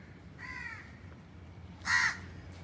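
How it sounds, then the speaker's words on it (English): A crow caws twice outdoors on a Maafushi island walking route in the Maldives, a softer call first and then a louder, harsher caw a moment later. "And that's a crow."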